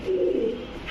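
A feather-footed khaki pigeon of an old breed, with thick leg muffs, gives a low throaty coo that swells and rolls for most of a second, close and clear with no talking over it.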